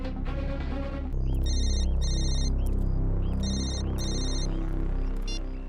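A phone ringtone plays as a bright repeating electronic melody, loud and close, its short chiming phrases cycling several times without any talk.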